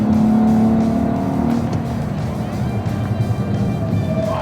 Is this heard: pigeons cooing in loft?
no